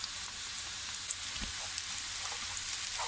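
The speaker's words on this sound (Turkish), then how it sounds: "Tavuklarım da kızarmaya başladı. Gördüğünüz gibi. Şimdi sarımsağımı atıyorum." Chicken pieces and garlic fry in a pan, giving a steady crackling sizzle with scattered small pops, close and continuous throughout.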